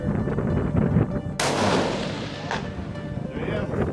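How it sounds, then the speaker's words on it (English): A single loud hunting rifle shot at an outdoor shooting range, a sharp crack followed by a booming decay, with voices murmuring before it. "That's a hunting rifle, and you got rounds cutting each other."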